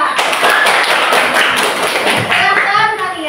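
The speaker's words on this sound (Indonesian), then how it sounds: "Tepuk tangan untuk kelompok 2." Classroom applause for a student group, loud steady clapping from many hands filling the room, with a teacher's voice speaking over it.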